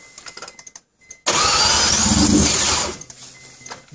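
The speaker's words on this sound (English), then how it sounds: "You gotta give a little throttle when you start it." A three-rotor rotary car engine catches after a quiet pause and roars loudly and up close under added throttle for under two seconds, then falls back to a lower, rough idle, with scattered clicks and knocks before it starts.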